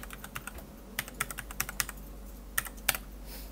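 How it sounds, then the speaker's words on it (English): Password typed on a computer keyboard for a Raspberry Pi install, a quiet run of close, uneven key clicks with a brief pause before a few final taps. "And you have to type your Raspberry Pi password."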